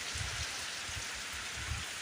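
Heavy rain falling in a village, a dense continuous hiss of drops on surfaces with low patters, steady and close, no voices.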